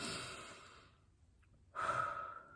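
A slow, deep breath drawn in softly, then a louder, breathy exhale about two seconds in, close and alone in a quiet room.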